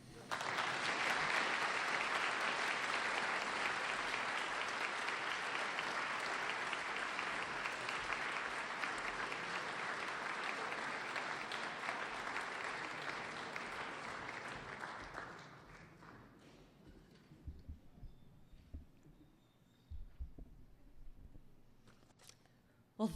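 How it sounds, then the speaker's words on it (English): A conservation event audience in New Hampshire gives sustained applause after storytelling speakers, dense and even for about fifteen seconds before fading to scattered claps and quiet room noise. "Another round of applause for them."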